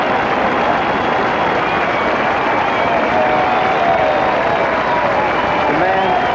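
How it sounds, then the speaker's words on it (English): Stadium crowd applauding a marathon runner entering the stadium at the Olympic men's marathon, a steady loud wash of clapping and cheering throughout, with a commentator's voice over it. "Listen to the applause."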